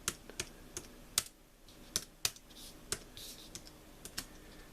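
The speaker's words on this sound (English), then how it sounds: "and now I'm typing" Key clicks from a Microsoft Universal Folding Bluetooth Keyboard, typed near and in an uneven rhythm with about a dozen separate sharp taps and small pauses between bursts, quiet overall with no talking.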